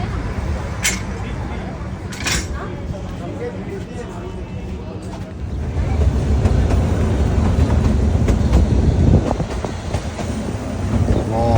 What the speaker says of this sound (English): here is the Himalayan Queen Shimla toy train coming